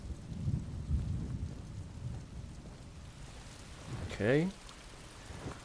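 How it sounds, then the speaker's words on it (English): Rain and a thunderstorm in an Elder Scrolls game: steady rainfall hisses throughout while low thunder rumbles early on, and a single short spoken word cuts in near the end. "I could do without this damnable rain. It's been storming since we arrived"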